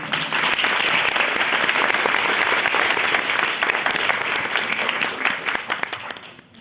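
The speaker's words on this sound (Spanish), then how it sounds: "Un aplauso para ella." An audience at a panel event gives a sustained round of applause for a theatre festival's former artistic director, dense and loud clapping that holds steady throughout before tapering at the very end.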